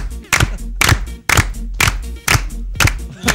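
Hands clap together in a steady rhythm along to music in a studio, six or seven loud, evenly spaced claps over a low musical beat.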